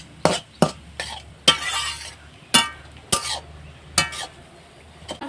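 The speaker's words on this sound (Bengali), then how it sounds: "দিয়ে এই যে নাড়ছি শাকটা" Leafy greens seasoned with salt and turmeric being stirred in a pan, about eight separate scraping strokes with brief sizzling bursts between short pauses, close and fairly loud.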